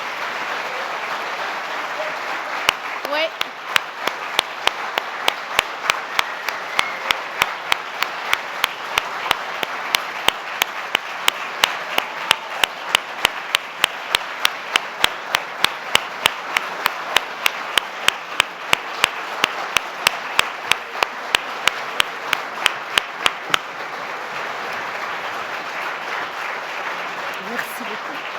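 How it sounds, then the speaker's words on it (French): An audience at a closing ceremony breaks into sustained applause lasting over twenty seconds, with a dense wash of clapping and a rhythmic beat of synchronized claps running through the middle before it fades; a brief voice is heard. "Je vous demande donc de l'applaudir encore plus chaleureusement."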